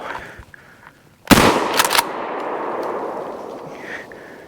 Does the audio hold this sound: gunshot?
yes